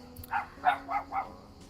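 Several dogs bark in four evenly spaced, mid-pitched yaps across under two seconds, fairly faint and somewhat distant, with no talking.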